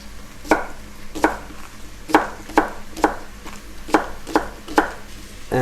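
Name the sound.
knife chopping scallions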